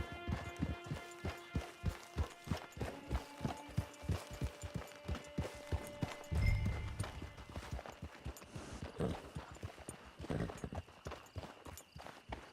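Horse hooves clip-clop in Red Dead Redemption 2, a steady, even walking rhythm of close, distinct hoof strikes that keeps going throughout over a faint background.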